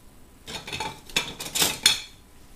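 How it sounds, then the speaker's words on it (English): Cooking shears snip through mushrooms up close, several crisp metallic cuts and clicks coming in an uneven rhythm over about two seconds, with no voices. "Gotta love these cooking shears. It seems so strange to chop into food"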